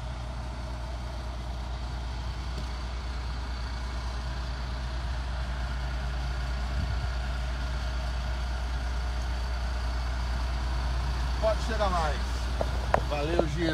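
A Volkswagen Meteor 29.520 6x4 truck idles with a steady, deep low rumble throughout, up close, and faint voices come in near the end.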